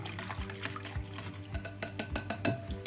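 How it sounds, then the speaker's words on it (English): A spoon stirs activated yeast mixture in a bowl for homemade bread, giving soft liquid swishes and light clinks of utensil against the bowl in a quiet kitchen. "I'm going to stir it again"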